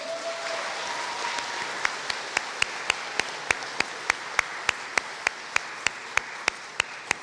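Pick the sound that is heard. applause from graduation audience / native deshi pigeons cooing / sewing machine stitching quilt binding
applause from graduation audience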